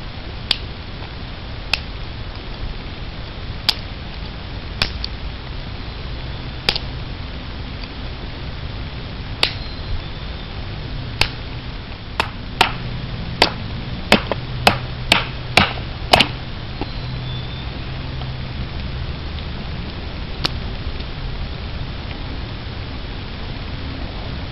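A handmade knife splits a piece of wood into smaller pieces for a small fire, giving a series of sharp, separate cracks and knocks that come sparse at first, then bunch into a quick run of strikes before one last hit, over steady background hiss.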